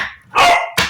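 Pet dogs bark twice up close, a loud drawn-out bark followed quickly by a sharp short one.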